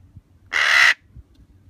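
An Eclectus parrot gives a single harsh, raspy squawk lasting about half a second, close and clear against a quiet room with faint low rumble.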